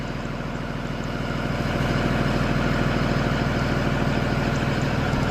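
A simulated school bus engine idles steadily in the Rigs of Rods game, a continuous low rumbling drone with a fast, even pulse and no voices over it.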